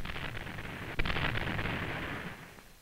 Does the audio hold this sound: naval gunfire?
yes